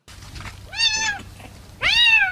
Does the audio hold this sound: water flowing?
no